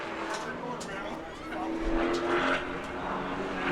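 A sportsman race car roars past at speed to the checkered flag during qualifying at New Smyrna, a loud, sustained engine drone rising and falling under a commentator's steady talk.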